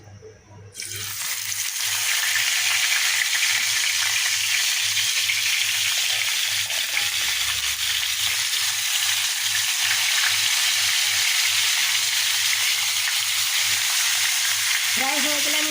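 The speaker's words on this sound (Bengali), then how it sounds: "এখন মাছগুলো একটা একটা করে ফ্রাই করে নেবো" Rohu fish pieces coated in turmeric and salt fry in hot oil in a kadai, a dense, steady sizzle that starts abruptly and holds loud and close for the whole stretch without voices.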